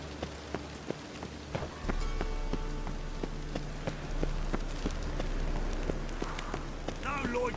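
Rain falls steadily in The Witcher 3, a dense patter of drops with scattered sharper splashes close by, heard alone under faint game sounds.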